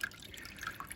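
Water trickles down a drip wall in a bioactive Exo Terra terrarium built for poison dart frogs, faint soft drips and a light trickle heard close up and alone.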